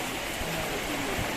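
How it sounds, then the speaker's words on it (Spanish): Steady rain falling in Bratislava on a stormy day, a dense, even hiss of water with no breaks across the short stretch. "la lluvia todo el día ha estado presente"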